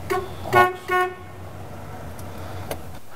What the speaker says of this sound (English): Oh yeah, and the honks.